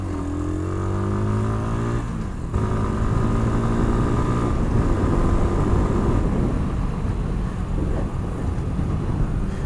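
A Mash 250 Black 7 motorcycle rides along with its engine revving up through the gears, pitch climbing, a brief drop at a shift, then a steady loud drone mixed with wind rush, no talking.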